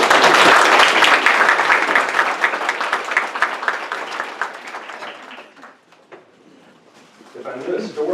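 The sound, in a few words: audience applause welcoming a speaker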